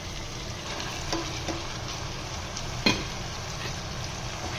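Minced mutton keema sizzles steadily in a hot pan while being stirred, with a constant frying hiss broken by a few soft clinks of the spoon against the pan, close and moderately loud.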